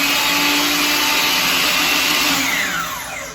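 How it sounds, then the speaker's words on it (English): A DeWalt 20V battery-powered chop saw runs with a loud, steady, high whirring whine like a vacuum cleaner, close by and alone, then begins to wind down at the end. "So if you want to hear it run here, I'll just kick it in right quick."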